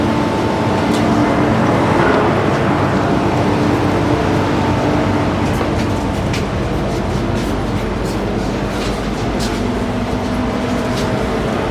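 Steady rumble and rattle inside a moving train carriage, continuous and fairly loud, with the hum of wheels on track and no one speaking.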